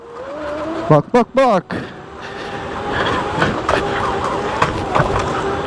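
An electric Dualtron Popular scooter pulls away and climbs a hill with a steady broad rolling drone, heard close after a few short loud exclamations from the rider.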